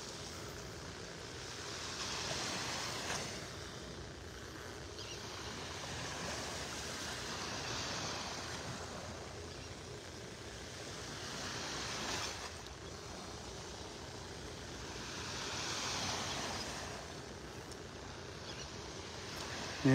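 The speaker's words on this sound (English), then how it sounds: "It is a very quiet Thursday morning here at the beach." Gentle surf rolls onto Area 4 Beach in North Naples, Florida, on a quiet morning. A steady wash of water swells and fades about every five seconds, with no voices.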